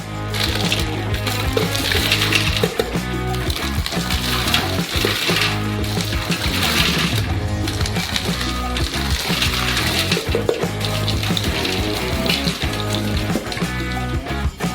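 A mass is stirred in a frozen pan chilled over dry ice, giving steady, close scraping and crackling with a sizzle-like hiss that runs without pause.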